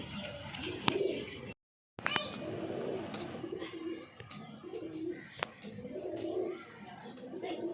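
Several pigeons coo in repeated throaty phrases, fairly close, with a brief silent gap early on, a few sharp clicks, and some faint voices in the background.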